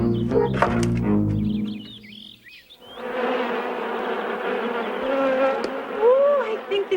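A steady insect-like buzzing drones on for several seconds after a brief burst of other sound, fairly close and continuous.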